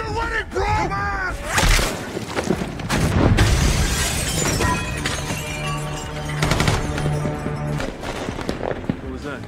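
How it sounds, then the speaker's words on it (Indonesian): Automatic gunfire in the action film Ambulance (2022), rapid bursts of shots with shattering glass and crashing impacts, loud and chaotic under shouted voices and score. "Automatic rounds."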